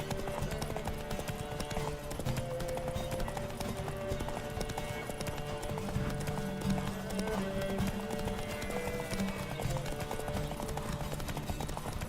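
Horse hooves clip-clopping at a steady gallop in a video game set in an occupied Midgard, continuous and fairly close amid music and game ambience, with no talk.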